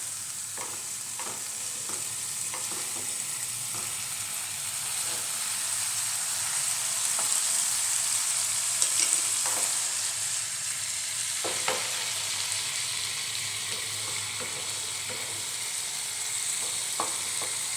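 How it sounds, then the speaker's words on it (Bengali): Spice paste for a mustard-based parshe fish curry sautés in a pan over raised heat, giving a steady, close sizzle punctuated by occasional scraping stir clicks, with no voices. "একটুখানি কষানো হোক, আঁচটা বাড়িয়েই দিলাম, একটু এটা কষানো হয়ে যাক"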